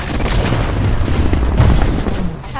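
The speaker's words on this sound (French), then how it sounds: "c'est des grenades." Grenade explosions in the futuristic shooter Titanfall during online play, a loud, dense run of booms and crackling blasts mixed with gunfire, with a heavier thud near the middle.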